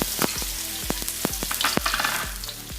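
Garlic frying in vegetable oil in a wok for a Thai stir-fry, with a loud steady sizzle and several sharp scraping knocks of a spatula against the pan, close and alone.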